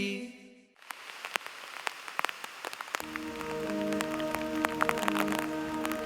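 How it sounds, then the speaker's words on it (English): Heavy rain from Hurricane Florence pours down steadily, with sharp drops spattering nearby on a surface over a continuous wash of rainfall; a low tonal hum joins partway through, and no one speaks. "This rain is just not letting up."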